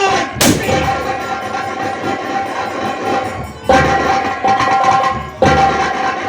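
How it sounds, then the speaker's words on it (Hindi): Loud, dense bursts of gunfire in a staged Hindi folk theatre performance rumble and crack without pause, with sharp new volleys striking near the start and again toward the end; no voices. "कहाँ छुप के गोली चला रहे हो?"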